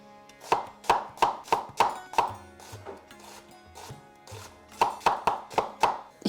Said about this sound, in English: So just roughly chop this up.